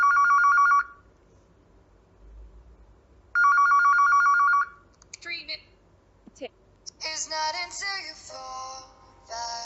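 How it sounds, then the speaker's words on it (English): A Huawei phone's default digital ringtone of repeated electronic beeps plays in two bursts, then a brighter chiming melody follows, with a few clicks in between. "As usual, digital ringing tone."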